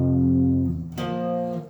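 A clean electric guitar strums two bright, undistorted chords that ring out and slowly decay.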